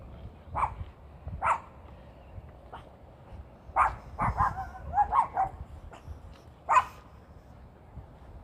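A dog barks in short separate bursts, a few single barks then a quicker cluster, moderately close with quiet pauses between.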